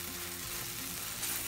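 Curry leaves sizzling steadily in hot oil in a pan while a vegetable kurma masala cooks, a continuous close crackling hiss with no voices.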